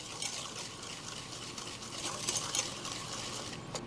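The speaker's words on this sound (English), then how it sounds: "I'm going to start out with a 1/2 cup of olive oil, extra virgin, of course, and 2/3 cup organic sugar. And we're just going to give that a stir" A spoon stirs extra virgin olive oil and organic sugar together in a bowl for a pear almond torte batter, giving a steady wet scraping swish that grows a little stronger midway, with no talking.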